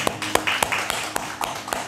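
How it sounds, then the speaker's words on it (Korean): A church congregation claps at the close of a worship service, with sparse, separate hand claps rather than a dense ovation, fairly quiet and with no one talking over it. "우리 예배를 마치 하나님께 영광의 박수 올려드리겠습니다."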